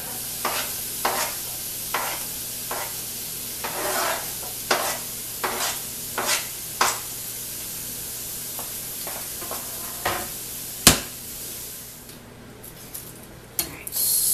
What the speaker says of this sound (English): Go ahead and dump this into my pan before starting on the rest of my veggies.